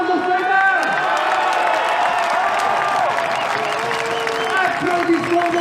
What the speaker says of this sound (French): Applaudissons nos soldats.